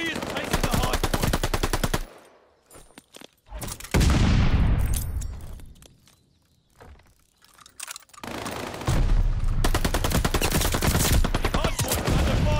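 Gunfire at a hardpoint in the video game Call of Duty Vanguard: rapid automatic bursts, loud and close, break off for a few seconds of quieter activity and a boom, then the dense firing resumes and continues to the end.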